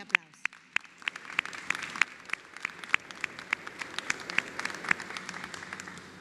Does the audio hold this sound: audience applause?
yes